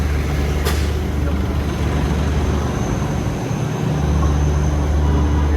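The Darjeeling toy train runs on its roadside track, heard from inside the third coach as a loud, continuous low rumble with a brief sharp squeal near the start.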